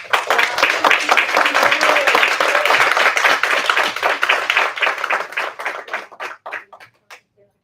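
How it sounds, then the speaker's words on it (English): Enthusiastic applause from a crowd at a school district board meeting, dense clapping that holds steady for several seconds before thinning out into a few scattered claps. "a round of applause for these leaders"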